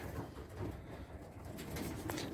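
Pigeons coo softly at a low level in a quiet allotment loft, a few gentle calls with light background rustling and no talk.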